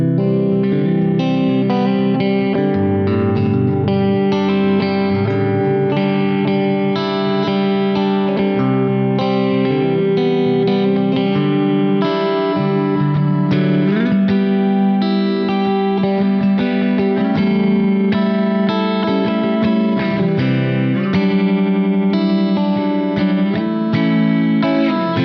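An electric guitar plays continuously through distortion and chorus effects presets, thick sustained chords and riffs ringing out with heavy saturation and a wide shimmering modulation, no talking over it.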